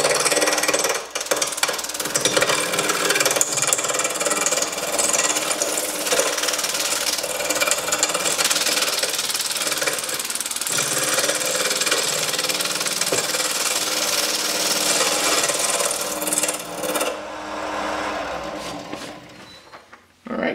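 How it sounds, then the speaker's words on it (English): Carbide woodturning tools cut on a lathe spinning at about 1100 RPM, giving a loud, continuous rough grinding and rumbling roar that holds steady before cutting off near the end. "So we're turning around 1100 RPMs, and I'm going to be using my EasyWood carbide tools for it."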